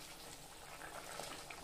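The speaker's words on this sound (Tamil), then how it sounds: "குழம்பு நல்லா கொதிச்சுட்ருக்கு." Chettinad egg curry bubbles gently in a pot as a faint, steady simmering hiss with small pops, heard alone with no voices.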